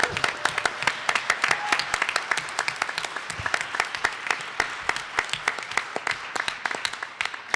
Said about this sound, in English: given the claps that I got so far